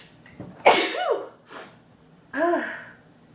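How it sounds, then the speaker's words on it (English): A woman sneezes loudly with a sharp gasping intake, followed by a shorter breath and a second forceful sneeze burst, close and alone. "I sound like a man when I sneeze."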